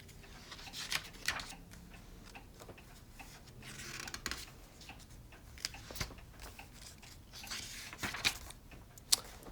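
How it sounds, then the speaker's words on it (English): Old clocks tick faintly in a quiet room with a 1917 stove, a soft irregular series of clicks against low background noise, without talking. "You hear that clock and you hear that one."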